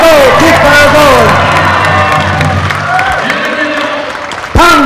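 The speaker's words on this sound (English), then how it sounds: "Cheer them on. Cheer them on. Let's go." A dense crowd at a relay race cheers and shouts continuously, loud and close, with whoops rising above the roar and some clapping mixed in, then a sharp burst near the end.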